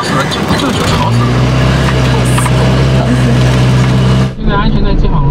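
Austin FX4 London taxi engine droning loudly inside the cabin, a steady low rumble throughout while people talk over it, then a brief dip and shift in tone near the end.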